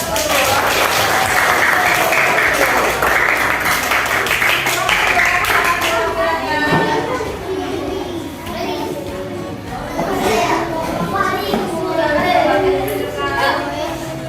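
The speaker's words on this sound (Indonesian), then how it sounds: "Tepuk tangan untuk nomor 1." A classroom of children bursts into loud, sustained applause for a group's work, rapid dense clapping that fades after several seconds into children's chatter and a teacher talking.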